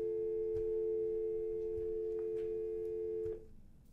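A steady telephone busy-signal tone, taken during a sports podcast, holds unbroken and fairly loud for about three seconds and then cuts off, leaving a faint background behind it.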